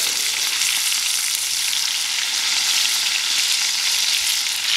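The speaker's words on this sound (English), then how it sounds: "So we're going to fry up these back straps." Backstrap meat fries in a pan at a bush camp, giving a loud, steady, continuous sizzle that holds at even strength throughout with no voices over it.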